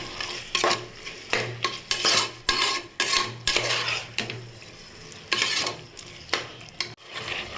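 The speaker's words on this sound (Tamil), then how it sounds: "சேர்த்து நல்லா வதக்கிக்கோங்க வதங்கிறதுக்கு கொஞ்சமாக உப்பு சேர்த்துக்கலாம் சேர்த்து நல்லா வதக்கிக்கலாம்" Capsicum is sautéed with salt in a pan for biryani, with rhythmic, repeated scraping and clanking strokes of a spatula over a light sizzle, close and fairly loud.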